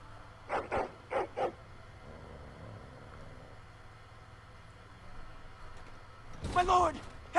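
A dog in the Dragon Age video game barks four times in a quick, close cluster, followed by a low background hum and then a burst of voice near the end.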